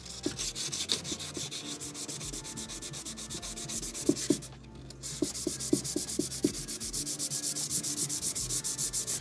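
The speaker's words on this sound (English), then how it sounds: "First off, we are running the 240 grit." Hand sanding of carbon fibre resin skin on a Ford Cortina body panel with 240 grit sandpaper gives steady, close back-and-forth rasping strokes, with a brief pause midway before the rhythmic scrubbing resumes.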